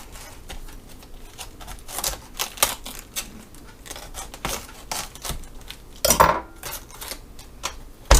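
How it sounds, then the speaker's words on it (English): A large knife cuts the core out of a fresh cabbage on a cutting board, giving a series of crisp crunching and tapping cuts with a sharper knock near the end, close and fairly quiet, with no talking. "And I'm just going to cut off the core here."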